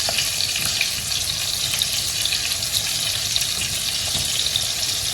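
Sauce of onion, garlic and spices cooking over medium heat in a frying pan, a steady broad sizzle and hiss running continuously throughout, close and even.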